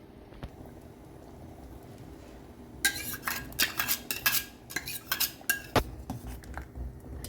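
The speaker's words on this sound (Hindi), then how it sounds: "तो अब इसमें डालते हैं कोकोनट पेस्ट" Coconut paste stirred into simmering sago kheer, a spoon scraping and clinking against the pot in quick irregular strokes after a quiet start.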